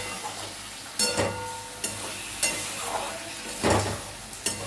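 Chicken frying with spices in a pan on low heat, a continuous close sizzle broken by several sharp scraping stir strokes at irregular intervals, fairly loud and without talk.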